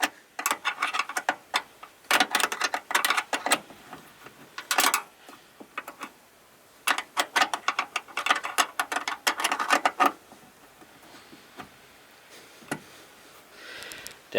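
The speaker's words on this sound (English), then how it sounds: "We'll put our wrench on it here." A ratchet wrench with socket and open-ended sides tightens a nut during a Cadillac XTS light replacement, giving bursts of rapid close clicking that come in several spells separated by short pauses.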